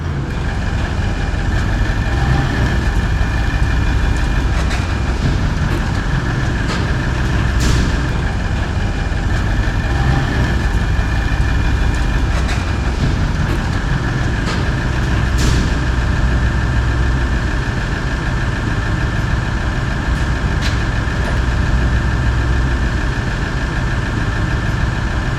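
A vehicle engine idles and runs steadily while towing a caravan outdoors, a continuous low rumble with a constant drone, loud and close throughout, no voices.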